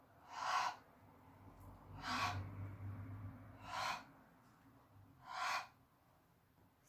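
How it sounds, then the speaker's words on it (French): Breathing during an arm-strengthening exercise: four loud, evenly spaced breaths about a second and a half apart, close to the mic over a low steady background hum. "On expire quand on descend, on inspire en haut."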